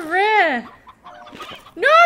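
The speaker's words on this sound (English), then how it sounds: "Oh, I'm on these chickens." Cartoonish hens cluck in the Slime Rancher video game, two short warbling calls near and loud with a quiet rustle between them.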